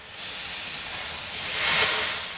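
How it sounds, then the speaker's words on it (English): Water thrown on hot sauna stones in a Finnish sauna sends up a broad, steady hiss of steam that swells louder toward the end, heard alone with no voices. "Throwing a little water on the stones from time to time increases the humidity."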